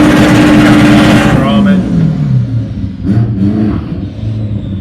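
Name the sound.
drag racing cars launching down the strip at Santa Pod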